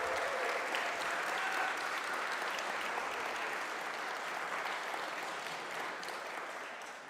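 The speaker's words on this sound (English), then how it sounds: "Can we have a round of applause?" An audience at a tech conference in Berlin gives a round of applause, steady dense clapping that slowly fades toward the end.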